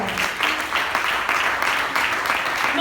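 A church congregation claps for the Lord in a rhythmic, roomy wash of applause, steady and fairly loud for a few seconds, with no voices standing out.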